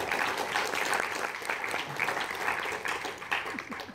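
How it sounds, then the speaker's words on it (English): A graduation ceremony audience applauding parents, a broad, continuous wash of many hands clapping at moderate distance, steady for several seconds with no pause. "Graduates, please give your parents a round of applause"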